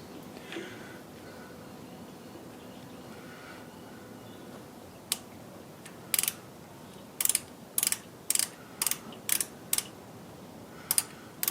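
Lathe boring pass in a home workshop, making a 20 mm bore for a hex-bolt collet chuck: a low machine hum, then a run of sharp evenly spaced clicks and clacks, close and fairly loud.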